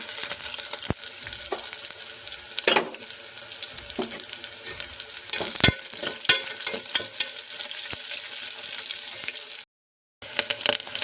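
Crushed garlic sizzling and frying in hot oil in a pan, a steady crackling sizzle broken by several sharp stirring scrapes and clinks, close and fairly loud, no talk.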